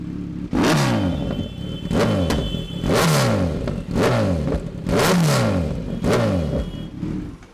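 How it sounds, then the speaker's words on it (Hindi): Kawasaki Z900 2023 (BS6) fitted with an Akrapovic long-can exhaust, dB killer removed, revved hard in six loud, close blips with rising and falling engine pitch and a raspy, crackling tone throughout. "और जो हमने अब डीबी किलर निकाल दिया, अब आवाज़ सुनते हैं लॉन्ग कैन की।"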